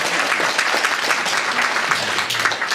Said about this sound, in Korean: 또 한번 박수 칠까요?